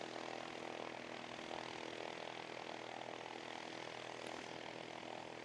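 Small propeller aircraft at Christchurch International Airport, a faint, steady distant engine drone holding evenly throughout with no talk.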